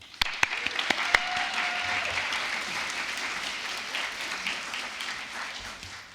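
Audience applause at an Ignite speech event greets speaker April Seeley: a full, steady roar of clapping from a crowd, with a few sharper claps near the start, continuing evenly throughout.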